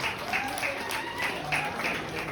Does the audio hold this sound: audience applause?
yes